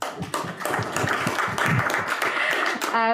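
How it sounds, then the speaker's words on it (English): Applause for a speaker at a book launch, a brief burst of mixed clapping and tapping with voices mingled in, ending in a short voiced sound. "Please clap for me."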